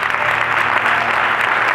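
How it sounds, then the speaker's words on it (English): A church congregation at a Mother's Day service claps together, a dense, loud, even wash of hand claps close by. "And you gotta clap your hands for them."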